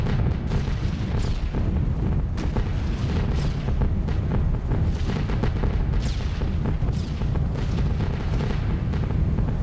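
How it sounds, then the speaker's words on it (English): Flak bursts fill the sky around a B-17 bomber in a World War II flight game: a dense, continuous rumble of overlapping booms and blasts, loud and steady throughout with no pauses. "You can see the flak box, they kind of just fill the sky with flak."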